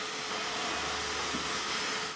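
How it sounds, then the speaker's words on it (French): A vacuum cleaner running on a staircase before renovation, a loud, steady broadband whir held close throughout the short stretch. "Commencez par passer l'aspirateur"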